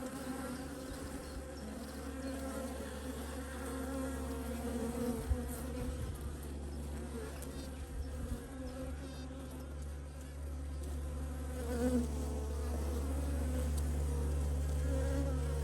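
Honey bees buzz in an open hive, a dense, steady hum of many wings close by that continues throughout with slight swells in loudness.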